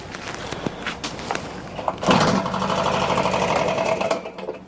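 A Stihl BR600 backpack blower with a bad cylinder sputters and knocks, then the engine revs up as the throttle opens into a loud, rough, uneven drone before dropping away.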